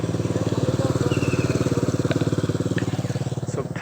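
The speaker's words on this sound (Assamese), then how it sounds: "মানুহবোৰ ঠাণ্ডাত দেখিছেনে কেনে বাইক লৈ ঘূৰিছে।" Motorbikes ride along a street on a cold morning, their engines producing a close, steady pulsing rumble with a few faint clicks and knocks over the top.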